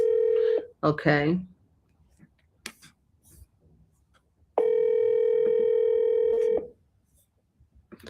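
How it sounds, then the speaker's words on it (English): Outgoing telephone call ringback tone: a steady tonal burst at the start and a longer one around two seconds later. A brief spoken word comes between them, and there are faint small noises in the gaps. "Okay, we're going to call."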